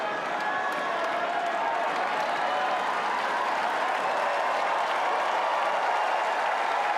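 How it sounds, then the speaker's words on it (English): Steady, dense applause from a large crowd at a Wimbledon tennis match fills the whole stretch, loud and continuous with a general murmur of voices mixed in. "Listen to the crowd."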